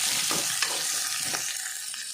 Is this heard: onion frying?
yes